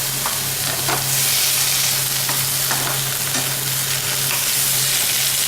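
Chopped paneer frying with roasted peanuts in a pan makes a loud, continuous close-up sizzle with a faint low hum underneath and a few soft stirring knocks.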